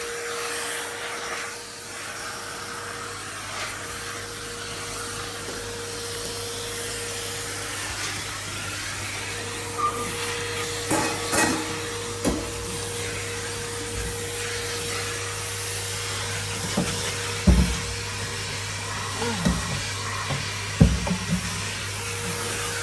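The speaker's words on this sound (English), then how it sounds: "Turn into a bit of a detailed vacuum in here" A vacuum cleaner runs steadily throughout with a constant whine and hum, occasional bumps and knocks as it moves around.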